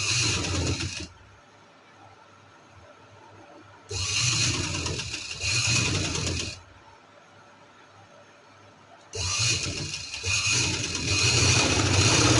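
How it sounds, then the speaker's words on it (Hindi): A sewing machine stitching black trousers whirs in three loud, steady runs of a few seconds each, separated by quieter pauses and with no talk. "इस तरह से हम इस पर सिलाई लगा लेंगे।"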